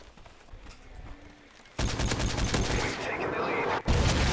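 An MK14 rifle fired from the hip in Call of Duty MW3, a loud, rapid run of gunfire that bursts in abruptly after a quiet opening and continues steadily to the end.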